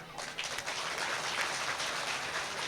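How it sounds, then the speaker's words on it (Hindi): An audience at a Hindu religious gathering, a Vishnu Mahayagya festival, claps steadily in dense, moderately loud applause that carries on through the whole stretch. "तालियां।"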